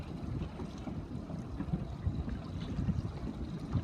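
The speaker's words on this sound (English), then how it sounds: "Good wind coming down." Steady wind rushing over the water during Laser dinghy racing in a winter series, a constant low roar with gusty swells and buffeting on the microphone, no talk in the clip.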